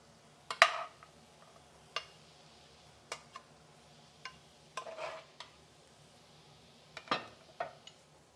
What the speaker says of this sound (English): spoon a generous portion of your beans